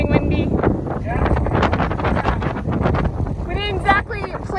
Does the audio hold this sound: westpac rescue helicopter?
no